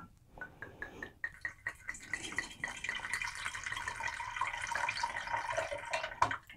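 Wine poured from a bottle into a small barrel: a few soft knocks and clinks, then a steady, fairly close gurgling stream that runs for several seconds before stopping.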